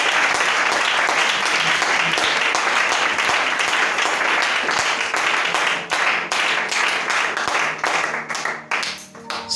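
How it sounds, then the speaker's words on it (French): Sustained applause and clapping from a church congregation praising God, dense and loud throughout, thinning slightly toward the end with individual claps standing out. "Acclamons ce Dieu."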